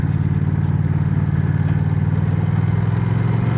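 A 2025 Honda CMX1100 DCT motorcycle engine rumbles steadily in sport mode, a continuous low throbbing drone with even loudness and no voices.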